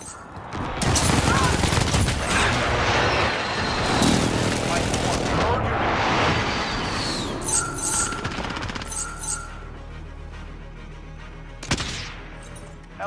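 An allied precision airstrike in Modern Warfare sets off a long, loud rumbling barrage of blasts and crackling debris that slowly fades, followed by one sharp hit near the end.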